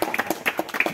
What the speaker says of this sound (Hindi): ताली बजाओ भाइयों।